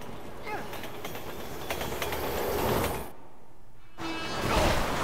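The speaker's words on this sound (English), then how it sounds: "Train's coming." A train approaching in Resident Evil 6, a rising rumble and rattling rail clatter that swells toward the end, with game voices and effects around it.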